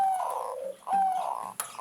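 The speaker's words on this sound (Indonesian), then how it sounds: "burung perkutut yang sudah berai dan sudah jadi" A trained zebra dove (perkutut) gives its soft, fluting coos, two or three close, clear phrases with short gaps between them, alone against a quiet background.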